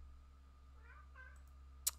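A cat lets out two soft, short meows close by over a steady low electrical hum, then a single sharp click follows.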